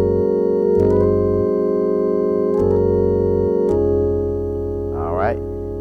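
Gospel organ phrase with grace notes: sustained chord layers punctuated by a few quick ornamental note attacks, ending in a short rising flourish, played alone at moderate volume.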